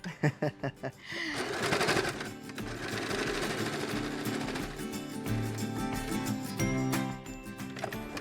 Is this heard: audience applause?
no